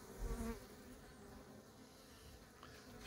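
Bees hum at a hive in an apiary while a hornet attacks, a dense, continuous, fairly quiet buzzing drone heard up close with no speech.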